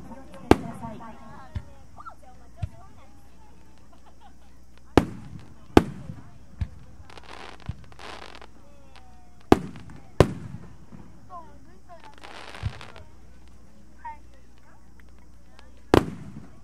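Fireworks boom one after another at irregular intervals at a festival fireworks show, sharp loud bursts followed by crackling sprays, while voices chatter in the background.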